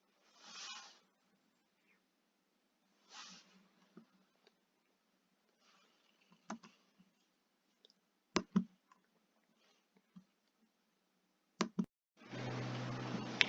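Computer mouse clicks, sparse and close, single and double sharp clicks scattered between quiet gaps alongside faint rustling, with a louder burst of noise at the end.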